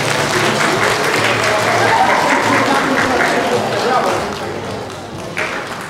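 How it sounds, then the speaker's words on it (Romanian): Audience applause greets a carol singer at a Christmas show in Ungureni, Romania: sustained dense clapping from a large crowd, loud and steady before easing slightly toward the end. "Haideți să-l primim cu aplauze."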